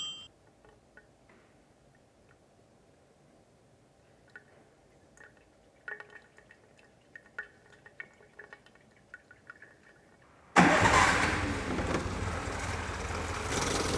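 An engine in a workshop, just oiled and with its fuel circuit reprimed, is heard first as faint ticking and dripping, then bursts into a loud, steady running roar that holds to the end.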